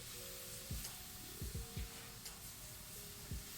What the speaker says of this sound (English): they're just trying to caramelize and get nice and soft and sweet